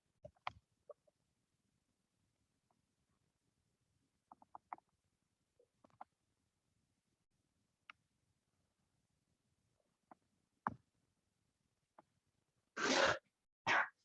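A person sneezes during a Spanish-language maths class on intervals, a few sharp broadband bursts near the end after quiet stretches with sparse small clicks and noises.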